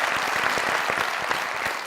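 A studio audience applauds steadily through a Hindi talk-show segment, the dense clapping loud and continuous from start to finish with no talk over it.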